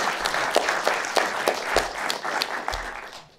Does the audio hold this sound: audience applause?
yes